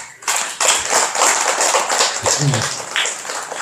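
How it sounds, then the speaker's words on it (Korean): Short scattered clapping from a temple congregation during a Buddhist dharma talk, a few seconds of uneven claps with faint voices over it. "김달룡 거사님만 박수 한번 쳐주세요"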